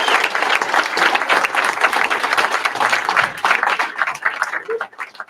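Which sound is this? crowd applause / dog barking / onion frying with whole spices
crowd applause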